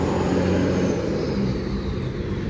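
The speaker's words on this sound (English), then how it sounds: "Loud truck." A loud truck rumbles past outside the Waller County Courthouse in Texas, a close, steady broadband roar that holds for the whole moment without talk.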